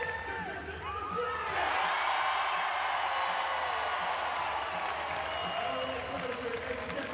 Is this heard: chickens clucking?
no